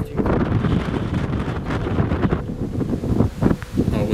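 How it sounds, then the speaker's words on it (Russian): Wind gusting hard across a microphone at an abandoned hilltop guesthouse, a loud, continuous buffeting roar with surges and dips throughout. "А вот чем мы выше, тем ветренее стало еще сейчас."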